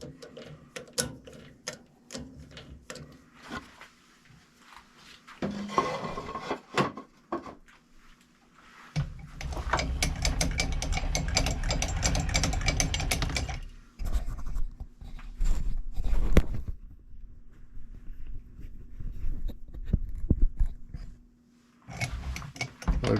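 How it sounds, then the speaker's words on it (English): Lathe parting tool cutting steel stock into pins, with intermittent ticking and clicking followed by sustained loud grinding stretches of cutting, pausing between passes. "I'm going to use a parting tool."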